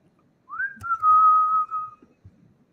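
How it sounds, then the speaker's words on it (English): A person whistles a single sustained note that rises briefly and then holds steady for about a second and a half, clear and close, with faint background knocks and no talking. "How do you whistle like that, man?"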